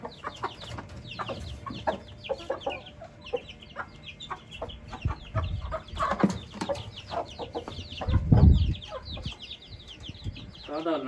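Chickens cluck repeatedly nearby in short bursts at a coop, with a rooster-like call mixed in, while people talk in the background and something bumps loudly near the end.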